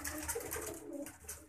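Fancy pigeons cooing in soft, throaty calls that repeat steadily, close by, over a low ambient hum.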